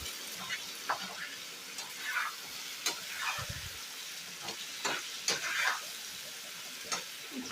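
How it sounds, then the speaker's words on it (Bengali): Potato pieces fry in a pan with salt, turmeric and chili powder, giving a soft continuous sizzle broken by scattered scraping strokes of stirring, close and moderately quiet. "নুন, হলুদ, লঙ্কা গুঁড়ো দিয়ে আলুটাকে কিন্তু আমি সুন্দর করে ভেজে নেব"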